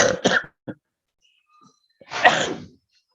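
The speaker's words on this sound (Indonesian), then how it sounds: "Saya itu lagi batuk ya" Two sharp, explosive coughs from one person, separated by a short quiet gap, close and loud with a brief catch of breath between.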